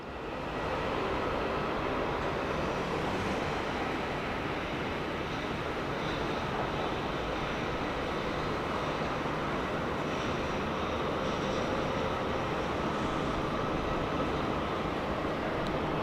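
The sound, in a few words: Fiji Airways A350 airliner at Sydney Airport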